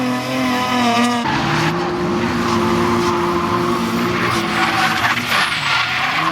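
Turbocharged Mazda Miata drifting on a track, engine note shifting sharply as the car breaks loose, with tires skidding and squealing continuously and loudly throughout.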